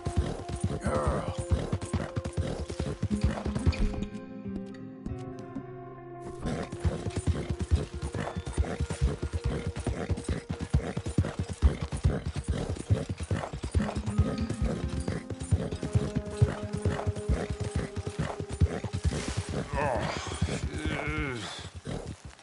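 Horse hooves clip-clop steadily and close in Red Dead Redemption 2, a continuous rhythmic trot with a horse that staggers as if drunk, heard over game ambience and music without any talk.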